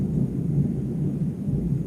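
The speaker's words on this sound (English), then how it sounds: "You guys hear that thunder?" A low, sustained rumble of thunder from a storm in Clermont, Florida, deep and continuous over two seconds, heard from indoors with no voices.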